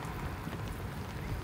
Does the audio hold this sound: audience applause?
no